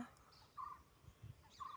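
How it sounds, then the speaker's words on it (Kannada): Faint bird calls, two short warbling cries from somewhere nearby, over a quiet low rumble. "ನಿಮ್ಮೂರಲ್ಲಿ ಇದ್ದಾವೆ ಪಕ್ಷಿಗಳು"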